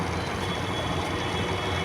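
A metro train in Pune runs past with a loud, continuous rumble and faint metallic squeal, heard up close with no talking.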